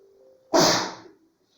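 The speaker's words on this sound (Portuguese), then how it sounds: "Opa, vou espirrar." A single loud, sharp sneeze close by, following a faint hum and trailing off into quiet.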